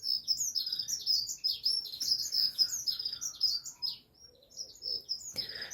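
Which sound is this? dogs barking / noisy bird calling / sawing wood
noisy bird calling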